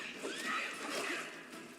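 A horse whinnies in a video game, a sustained, moderately loud neigh with faint hoof clatter behind it and no talking.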